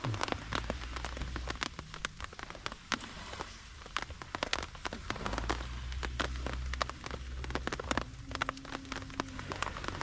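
Rain falls on a surface nearby, a dense irregular patter of drops with sharper ticks scattered throughout, steady and fairly soft.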